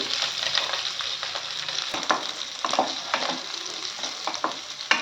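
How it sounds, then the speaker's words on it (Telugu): Onions, green chillies and curry leaves fry in hot oil with a steady, close sizzle, broken by the scrape and clack of a spoon stirring the pan, and no voices. "ఉల్లిపాయలు పచ్చిమిర్చి కరివేపాకు వేసుకొని దోరగా వేయించుకోవాలి"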